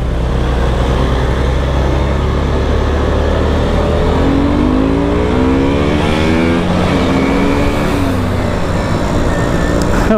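A KTM RC 125 motorcycle with a small 125cc engine overtaking on the road gives a loud, steady engine drone whose pitch climbs and sweeps midway as it accelerates past, with no talking.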